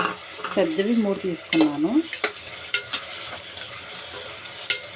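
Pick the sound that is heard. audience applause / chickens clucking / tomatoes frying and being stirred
tomatoes frying and being stirred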